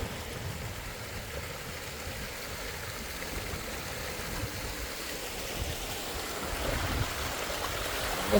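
Steady broadband rush of water from the Gerandi Ella waterfall and stream at Kalugalla, Sri Lanka, continuous and fairly close, swelling slightly toward the end with no voices.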